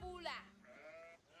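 A short sheep bleat sounds in the video game Age of Empires, a quiet wavering cry over faint background, with a speaking voice mixed in.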